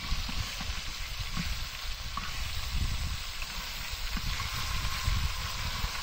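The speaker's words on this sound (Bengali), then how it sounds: "মাছ ভাজা শেষ।" Fish frying in a pan makes a steady, close sizzling hiss that stays even throughout, with no talk.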